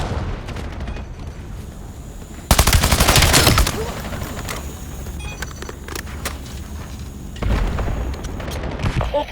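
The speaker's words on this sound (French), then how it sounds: "J'active une bombe collante." Call of Duty Black Ops 7 gameplay on the Nuketown map: bursts of rapid machine-gun fire and a loud boom from a sticky bomb erupt over a steady background, then a second heavy volley near the end.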